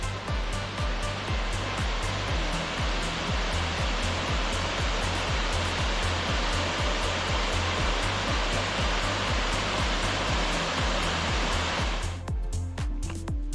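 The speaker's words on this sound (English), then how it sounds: "And here is the beautiful waterfall." Bash Bish Falls roars continuously and loudly in autumn, a dense, steady rush of water that fills the whole scene without letting up.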